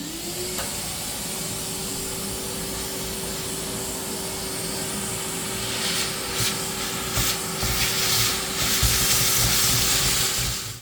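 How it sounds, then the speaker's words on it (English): A household vacuum cleaner runs continuously with a steady whine and broad hiss as it sucks up loose ballast from a model railway layout, growing rougher and louder toward the end, with no talking. "what I'm going to do now is just quickly go over it all with a hoover"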